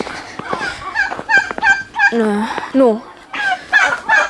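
Turkeys gobble in a quick series of loud, close, warbling calls, with a brief voice speaking among them.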